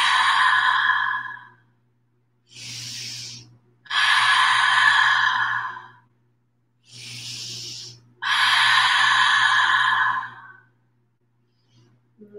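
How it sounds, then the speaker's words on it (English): Open-mouthed exhales during yoga breathing: three long, breathy rushes of air, each led in by a shorter breath, with quiet gaps between them and a faint steady hum underneath. "3 full rounds, open mouth exhales."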